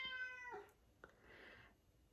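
A house cat meows twice indoors, the first call long and tonal, the second shorter and breathier after a brief click, both fairly quiet against a steady low background.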